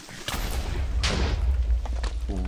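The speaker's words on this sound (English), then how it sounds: "That was an explosion." An explosion from the Minecraft modpack SevTech bursts out as a broad, loud boom and crackle that fills most of the clip, with a few sharp thuds and low rumble scattered through it.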